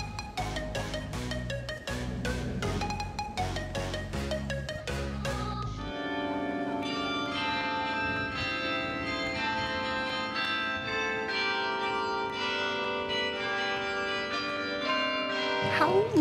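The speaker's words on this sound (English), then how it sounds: "All of a sudden, we heard the bells." Church bells ring out in the historical center of Brussels, first as a run of separate struck tones and then as a sustained, overlapping peal that goes on for many seconds.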